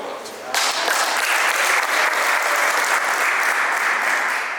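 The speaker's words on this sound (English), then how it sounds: "I think we can clap for that." Applause in the Zambian Parliament chamber, starting abruptly from a quieter murmur and swelling into loud, steady clapping from many members that holds for several seconds.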